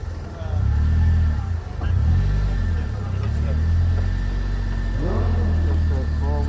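A supercar engine rumbles loud and steady as the car pulls away in gear, swelling briefly early on, with people talking over the drone throughout.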